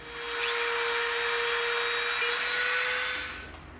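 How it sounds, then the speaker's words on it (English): A Dremel rotary tool carves a trench into EVA foam: a steady, close, high-pitched whir that holds for about three seconds before cutting off at the end. "we've got our Dremel out, we're going to dig a trench."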